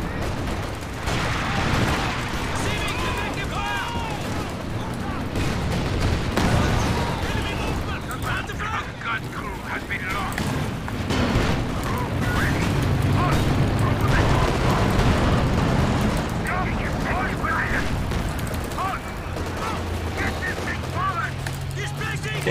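Artillery barrages from a Company of Heroes 2 4v4 match: dense, continuous booms and rolling explosions mixed with gunfire, loud throughout with voices talking over the battle.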